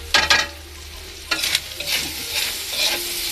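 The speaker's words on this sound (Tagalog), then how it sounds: "Pag nagluluto yung maraming bawang tsaka sibuyas." Garlic and onion sautéing in a pan for spaghetti sauce: a close, loud sizzle broken by several sharp scraping stirs near the start and middle, with no voices.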